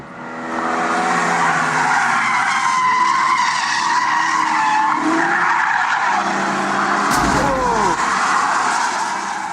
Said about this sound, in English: The clip shows the shocking moment when the driver of the silver Audi estate loses control.